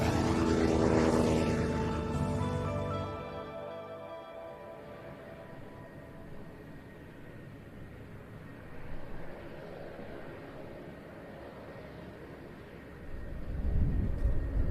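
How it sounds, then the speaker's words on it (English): A Saab 340 twin turboprop airliner taxiing out to the runway at an air show, a droning propeller engine tone that swells, then fades to a steady distant rumble before building again. "Taxiing out to the runway now, the Cranfield University Saab 340, and Ian had the pleasure of going for a fli"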